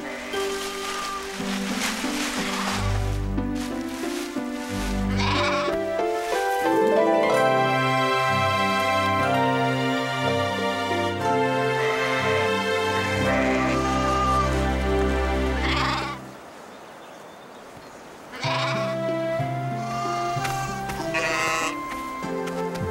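Sheep bleating as a sound effect in a children's Bible story about the lost sheep, several drawn-out bleats over a musical background with a brief quiet gap.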